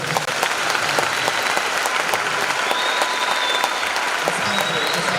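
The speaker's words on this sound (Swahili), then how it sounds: "Hebu piga makofi." Conference audience applauding, with dense, sustained clapping from a large crowd that stays loud and even throughout, faint voices mixed in underneath.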